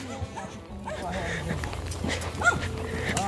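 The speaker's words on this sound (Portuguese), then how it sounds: "Cão que late no morde." Small dog barking and yipping in a home, a few sharp barks mixed with whimpers, fairly close, under ongoing talk.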